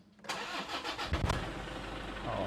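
A used Toyota Fortuner diesel with manual transmission cranks briefly and catches, settling at once into a steady, rough idle close by, with no voices.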